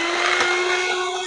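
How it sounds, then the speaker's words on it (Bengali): Electric beater whirring through cake batter with soybean oil, a loud, steady, close motor drone with a constant pitch that stays level throughout. "এখন এটাকেও কিছুক্ষণ বিট করে নিব।"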